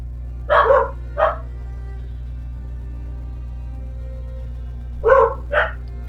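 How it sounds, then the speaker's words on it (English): A dog barks in two quick pairs, a double bark near the start and another pair a few seconds later, fairly close over a steady low hum with quiet gaps between. "I have dogs."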